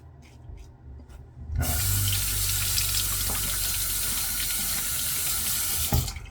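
A bathroom tap is turned on after a shave and water gushes steadily into the sink, close and loud, after a few soft knocks. It ends in a brief clatter.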